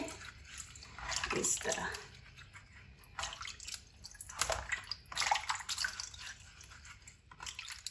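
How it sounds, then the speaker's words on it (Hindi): Bananas are washed by hand in water, with soft splashes, drips and squishy handling in uneven bursts, close and fairly quiet, while someone talks briefly. "अच्छी तरह इनको धो लेंगे"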